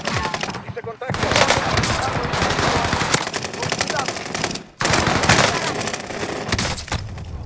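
Sustained rapid automatic gunfire in Call of Duty Warzone 2.0, loud continuous bursts broken by two brief pauses, with some talk underneath.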